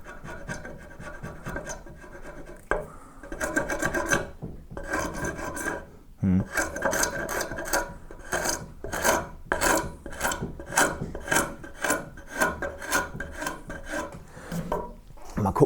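Yew wood on a longbow handle is sanded or rasped in repeated back-and-forth strokes, close and rhythmic, with brief pauses between bursts and the strokes quickening toward the end; no one speaks.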